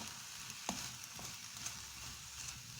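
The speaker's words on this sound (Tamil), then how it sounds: "நம்ம அதையும் நல்லா கிளறி விட்டுக்கலாங்க" Capsicum masala fries quietly in a pan with a soft steady sizzle and a couple of brief spoon scrapes and clinks from stirring, close but faint, no voices.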